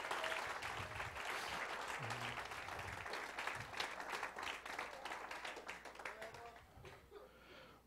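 A church congregation applauds in a steady, dense ripple of clapping that carries on for several seconds, fairly distant and soft, thinning out near the end.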